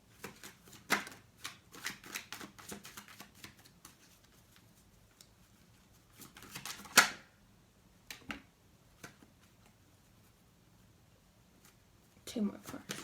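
Tarot cards are shuffled and handled in scattered bursts of soft riffling and tapping, with quiet pauses between and one sharper snap partway through.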